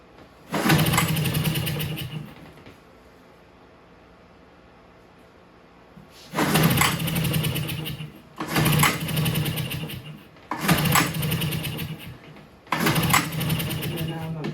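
A 1965 Toro Flymo lawn mower with a once-seized engine is cranked repeatedly, each of four or five loud bursts of two seconds or so sputtering without catching, separated by short quiet gaps.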